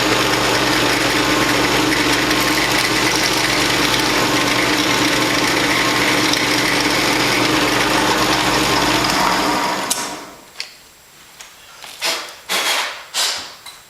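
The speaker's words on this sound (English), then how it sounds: "make sure that this small drill bit finds that center punch just exactly right" Steady high-pitched whirring of a small drill bit drilling into metal at a center punch mark on an RV-7 wing fuel cap flange for about ten seconds, then it stops and a few knocks and clatters follow.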